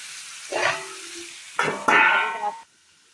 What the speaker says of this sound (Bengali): কড়ার মধ্যে দিয়ে দিয়েছি এটাকে ভেজে নেবো ঢাকা দিয়ে দিয়ে ভাজবো এঁচড়টা যাতে সেদ্ধ হয়ে যায় আর ভাজা হয়ে যায়